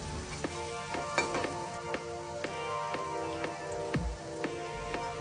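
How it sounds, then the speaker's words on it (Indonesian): Salted bulu ayam fish frying in hot oil over medium-low heat while being stirred: a steady close sizzle with scattered scraping clicks from the stirring, no talking. "ini gorengnya terus kita aduk-aduk ya Moms, agar ikan asin bulu ayamnya tergoreng merata dan tidak ada yang hangus"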